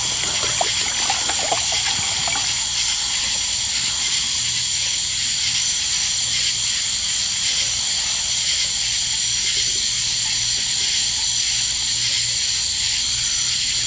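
Water trickling steadily while a container fills at a swamp campsite, a constant hissy stream with little change in level throughout, heard alone.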